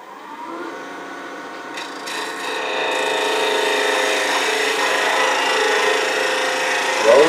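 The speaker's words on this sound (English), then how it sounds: "I'm going to come in there with this finishing tool, take one more cut, see if I can't get it even smoother." A finishing tool takes a light smoothing cut on spinning wood, a steady scraping rasp that builds after a couple of seconds and holds evenly to the end, with a brief louder scrape at the close.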